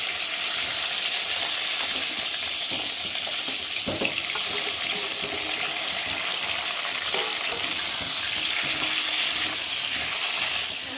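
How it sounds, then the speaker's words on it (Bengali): Potatoes fry in hot oil in a kadai for biryani, making a loud, steady hiss and crackle that runs unbroken for about eleven seconds with no voices. "ওই কড়ার মধ্যে আমি আলুগুলো দিয়ে ভালো করে ভেজে নেব"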